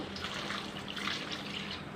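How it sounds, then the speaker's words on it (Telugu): A glass of water pours into chicken curry cooking in oil inside a pressure cooker, a steady splashing trickle that runs throughout, close and moderately loud. "ఇప్పుడు మనం ఏం చేద్దామంటే 1 గ్లాస్ వాటర్ వేసి"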